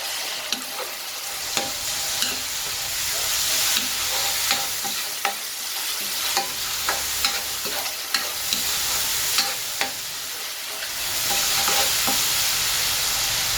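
Steady oily sizzling of onion and ginger-garlic paste sautéing in a hot pan, with spoon scrapes and clinks from stirring scattered throughout; no voices.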